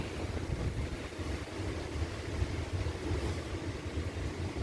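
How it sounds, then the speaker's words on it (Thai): Strong wind buffets a tent pitched at a campsite in Khao Chamao–Khao Wong National Park, Rayong, giving a continuous loud roaring rush with gusty swells and flapping against the microphone. "โอ้ลมแรงมากเลย"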